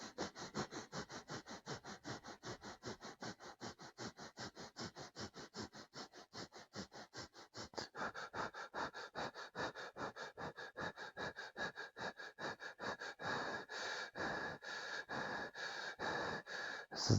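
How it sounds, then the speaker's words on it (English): Rapid, rhythmic breath of fire from an intermediate Kundalini yoga kriya: forceful, evenly spaced nasal breaths at a quick steady pace, close and continuous throughout, growing slightly stronger toward the end, with no talking. "And breath of fire."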